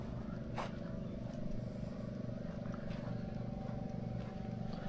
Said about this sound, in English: You can hear the hum of the generator in the background.